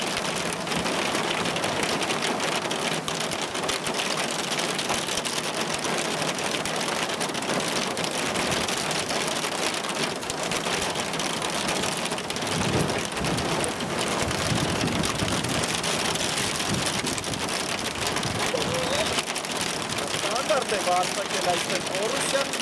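Heavy rain pours steadily across a football pitch during a match in Armenia, a dense continuous hiss under a commentator's voice, with crowd and stadium noise blended in throughout.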